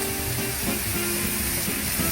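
Pineapple fried rice made with Southeast Asian rice and oyster sauce is stir-fried in a pan, producing a loud, continuous sizzle and hiss with rustling stirring, close and without talk.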